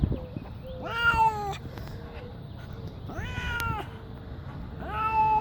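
A black cat meows plaintively from inside a brand-new pet carrier, with three drawn-out, rising calls spaced a couple of seconds apart, close and fairly loud over quiet room hiss.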